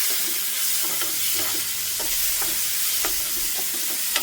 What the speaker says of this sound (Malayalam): വീണ്ടും നല്ലതുപോലെ ഒന്ന് ഇളക്കി യോജിപ്പിക്കാം